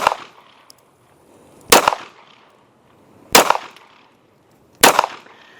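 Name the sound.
Walther PDP pistol being fired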